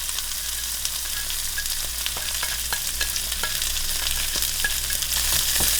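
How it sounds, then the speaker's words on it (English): Brussels sprouts, brisket and bacon bits frying in a tablespoon of tallow, a bright continuous sizzle dotted with frequent small pops and crackles, close and gradually building, with no talk. "And I'm putting them all into a tablespoon of tallow."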